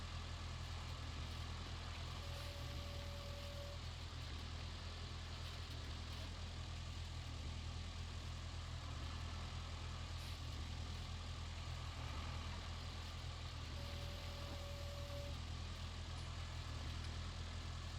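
Old, rusted tractor engine idling in a farming simulation game, a steady low diesel rumble that continues evenly throughout, with a faint high tone briefly appearing twice in the background.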